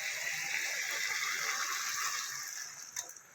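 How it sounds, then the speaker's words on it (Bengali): Boiling hot water pours steadily into sautéed spiced potato masala for a Bengali dhokar dalna, a close, rushing splash that tapers off after a few seconds and ends with a couple of light clinks. "এবার গরম জল দেবো"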